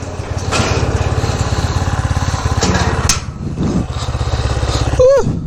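A dirt bike engine runs steadily nearby with a rough, rapid pulsing idle and slight revs, ending in a brief rising whine, before a group ride to Palpa, Masyam.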